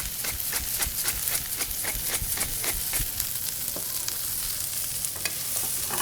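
Brussels sprouts fry in rendered bacon fat with salt and cracked pepper, a steady close sizzle and crackle running throughout, broken by quick regular stirring scrapes and spoon taps against the pan.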